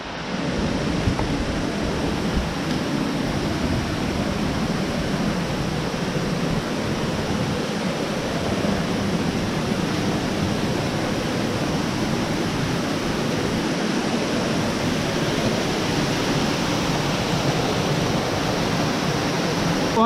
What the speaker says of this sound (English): I can hear the falls rushing down below.